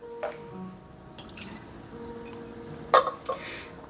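Water is emptied from a pour-over coffee brewer, heard as scattered drips and a few brief splashes over a quiet background, with no talking.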